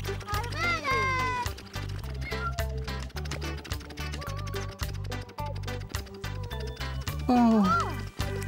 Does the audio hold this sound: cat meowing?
yes